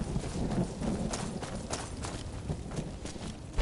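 Horse hooves clip-clop in the Skyrim VR video game, a steady, dense run of muffled hoofbeats under a thick low-pitched rumble, with no talk.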